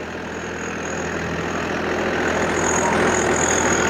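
Swaraj 744 FE tractor pulling a plough through a field in low third gear at 1600 rpm, a steady heavy diesel drone that builds slightly louder over a few seconds, with no talk.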